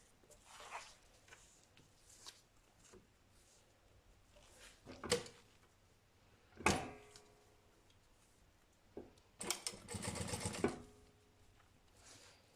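A sewing machine stitching a fabric lunch bag: short quiet runs of needle stitching separated by pauses, with handling clicks and a longer louder stitching burst near the end, close and faint.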